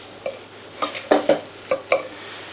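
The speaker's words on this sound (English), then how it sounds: "You want to sweat these onions off." Onions sweating in a pan for mutton curry, a few soft stirring scrapes and clinks against the pan over a faint low sizzle, close and quiet with no talk.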